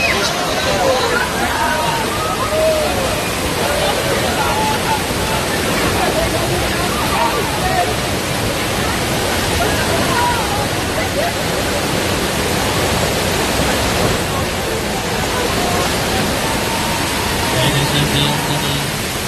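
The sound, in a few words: water effect splashing at US film studio show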